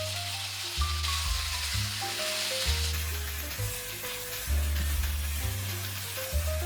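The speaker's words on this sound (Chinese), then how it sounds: "炒到牛蛙表面发白变色" Bullfrog pieces stir-fry in a wok with ginger, garlic and dried bamboo shoots, a moderate hissing sizzle running continuously beneath a louder melodic backing tune.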